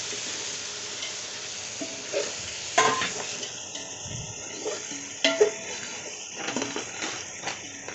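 A spoon stirs a mixture in a pot, giving scraping and clinking strokes over a steady sizzling hiss, with occasional sharper knocks against the pot.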